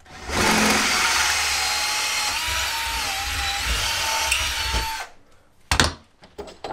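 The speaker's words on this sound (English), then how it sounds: "This is my quick change CNC." Improvised quick-change CNC machine drilling: a loud, steady high-pitched whine of a spinning tool cutting for about five seconds, then stopping abruptly, followed by a few scattered clunks and handling knocks.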